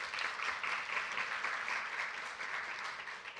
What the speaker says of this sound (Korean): 다시 한번 조천호 박사님께 뜨거운 박수 부탁드리겠습니다